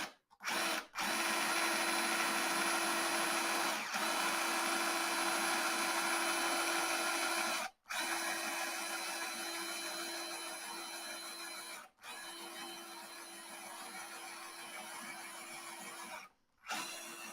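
Hand drill whirring steadily while boring inlay dot holes in a vintage classical guitar fretboard, a loud continuous buzzing motor tone held for several seconds at a time with brief stops between bursts.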